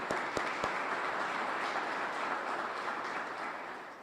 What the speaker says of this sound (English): give him a round of applause for him being here